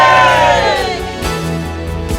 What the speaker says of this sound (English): We'll get a big cheer for your team.